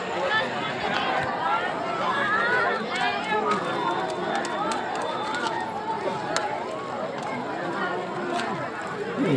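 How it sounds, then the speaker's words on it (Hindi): A large night-time crowd at Bageshwar Dham temple fills the air with dense, continuous chatter and babble from many voices, steady and close around the listener. "देखिए बहुत ही ज़्यादा भीड़ है यहाँ पर।"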